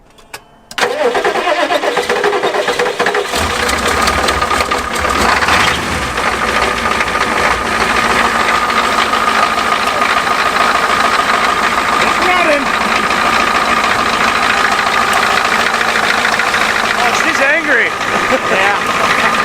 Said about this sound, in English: Well, you want to get in there and turn the key, light her off for us?